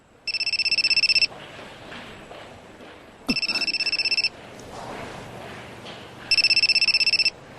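A mobile phone rings in an anime dub, sounding three bright, electronic bursts about a second long with quiet gaps between them, loud and close.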